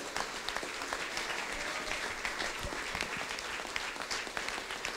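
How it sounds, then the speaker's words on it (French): Steady applause from an audience at a company's 40th anniversary ceremony, dense continuous clapping at moderate distance throughout, with no talk over it. "Mesdames et messieurs, on peut l'applaudir vraiment très très fort."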